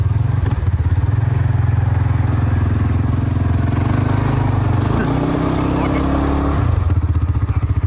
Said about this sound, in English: Let's reverse through the big clay bog hole.